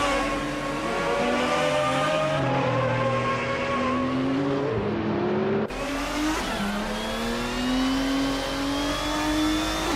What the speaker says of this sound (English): Broxworth and Nukenbokum are nose-to-tail fighting for 5th